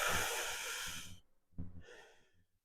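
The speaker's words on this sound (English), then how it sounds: "You take a deep breath" A single deep, slow breath taken close to the mic, a long airy inhale followed after a short pause by a softer, breathy exhale.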